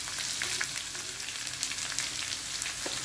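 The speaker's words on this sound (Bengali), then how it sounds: "এখন এই গুঁড়া মশলাগুলো ভালোভাবে নেড়ে চেড়ে পেঁয়াজের সাথে মিক্স করে" Ground spices with ginger-garlic paste, turmeric and chili powder frying with onions in a pan for a raw green banana curry, a steady dense sizzle with light scraping stirs throughout, no voices.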